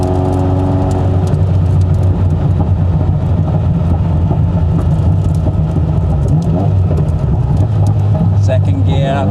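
A Ferrari F40 engine drones steadily from inside the cabin while driving, loud and continuous with road and mechanical noise, and a voice talks over it.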